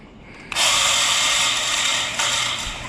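A grain bin sweep auger runs without the center auger, kicking in abruptly after half a second as a loud, continuous grinding and rattling mechanical roar that holds steady to the end.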